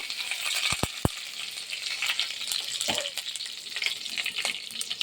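Curry leaves frying in hot oil with ginger for ginger pachadi, a steady close sizzle and crackle with a few sharp pops near the start and a brief clink midway.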